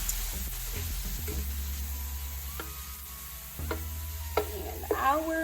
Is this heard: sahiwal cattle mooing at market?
no